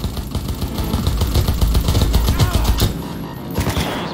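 Dense, close gunfire in Cyberpunk 2077 rattles continuously in overlapping rapid shots over a loud, busy combat mix, easing slightly near the end.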